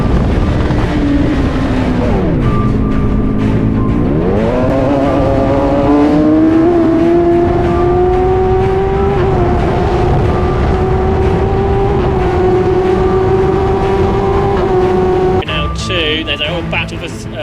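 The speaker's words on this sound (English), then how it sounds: "show you my teammate Tom Westworth onboard footage from this insane overtake he did into turn 1 on James Clennell." A race car engine roars loudly throughout an onboard view of an overtake into turn 1, its pitch dipping and climbing through gear changes with heavy wind buffeting, then dropping off near the end.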